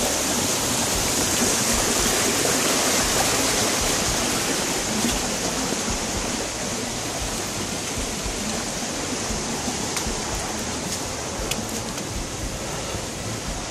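A creek runs below a beaver dam on a forest trail, giving a steady, full rush of flowing water that stays loud and even throughout with no voices.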